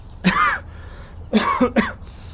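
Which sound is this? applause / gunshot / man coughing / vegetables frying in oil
man coughing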